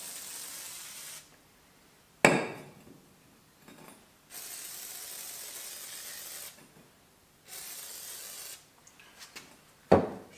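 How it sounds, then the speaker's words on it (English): WD-40 lubricant is sprayed onto a bushing on a three-point tractor attachment. Several sustained, close hissing bursts are separated by brief pauses, with sharp clicks at the nozzle starts. "Let's give it a WD-40 bath."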